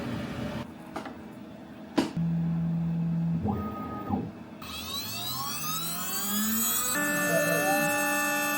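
A CNC machine runs in a workshop, its motor steady and loud with rising and falling whines as the spindle speeds change, plus a few sharp clicks and tonal sweeps throughout.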